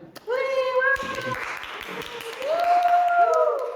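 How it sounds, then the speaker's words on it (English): Scattered applause greets an author being introduced, a short burst of clapping that rises and trails off while voices talk over it. "give a round of applause for Alif Raditya"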